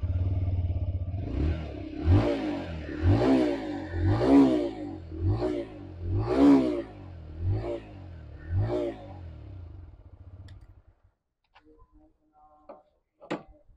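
A 2023 TVS Raider 125 motorcycle with a side-mounted exhaust idles close by and is blipped repeatedly. Its deep, bassy putter rises and falls with each throttle rev, then settles into quiet, with a faint click at the end.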